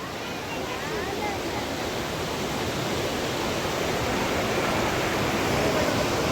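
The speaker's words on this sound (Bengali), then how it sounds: "এখানে জলের স্রোত আছে প্রচুর।" Strong water current rushing around Rocky Island, a dense, steady roar of flowing water and surf that fills the whole clip at constant loudness with no clear voices.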